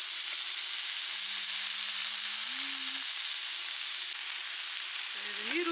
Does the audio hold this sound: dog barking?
no